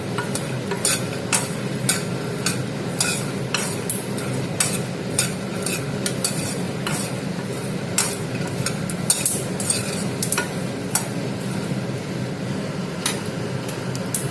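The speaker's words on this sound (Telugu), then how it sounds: "ఈ విధంగా ఫ్రై అవుతున్నాయి అన్నమాట ఫ్రెండ్స్" Ingredients for pali chutney frying in a pan, a continuous sizzle punctuated by frequent sharp clicks and taps of a utensil against the metal, with no voices.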